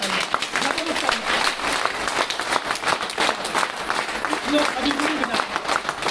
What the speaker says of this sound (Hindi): आप ताली बजा बजा के थक भी चुके हैं